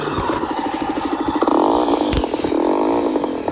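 A 2020 Jawa Perak BS6 motorcycle engine revs close by, a loud rough mechanical clatter with rising pitch and a brief surge midway.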